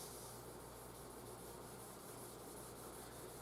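A cloth soaked in mineral spirits rubs over an ebony fretboard on a Gazzbass Scarab Series I Standard bass, giving a steady, close, continuous soft swishing with no breaks and no voices.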